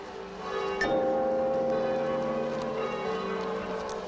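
A church bell tolls once with a clear struck onset, then its long resonant hum sustains and slowly fades over a steady background.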